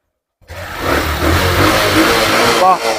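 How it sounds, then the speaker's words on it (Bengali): A 110cc motorcycle in a used-bike showroom fires up after a brief silence, then runs and revs close by, rising to a stronger rev near the end. "গাড়ি আগে ইঞ্জিনের সাউন্ড শুনিয়ে দিই"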